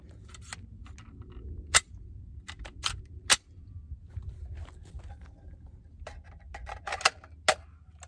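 A 6.5 Grendel bullpup rifle cycling rounds into the chamber during a malfunction-prone test, with scattered sharp metallic clacks and clicks over a low rumble, a few louder snaps standing out.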